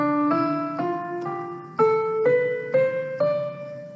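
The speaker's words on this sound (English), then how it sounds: "if you start singing it from D going on up, you're going to get a different sound." A solo voice sings a Byzantine scale up from D, moving through about seven sustained, steady stepwise notes that climb evenly. It sounds close and clear, with no other sound behind it.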